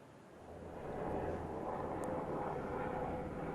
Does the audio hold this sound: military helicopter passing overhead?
yes